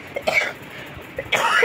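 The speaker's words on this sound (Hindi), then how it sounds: "कब ठीक होगी ये खांसी" Two harsh coughs, one near the start and one near the end, with a quiet pause between them.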